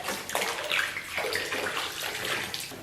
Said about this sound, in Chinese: 把猪肉洗干净以后放到锅中